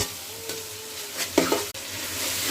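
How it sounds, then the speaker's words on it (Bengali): Onions frying in a pan with garlic paste, ginger paste and ground spices, giving a steady close sizzle with a few stirring scrapes and a brief louder burst near the middle, no talking. "পেঁয়াজ করে আমি 3-4 মিনিট বাজি"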